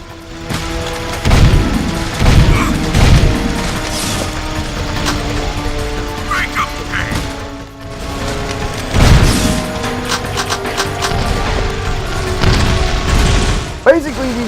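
Grenades in Jak II burst with repeated heavy booms, several thuds spaced a few seconds apart over a sustained game soundtrack, loud and close.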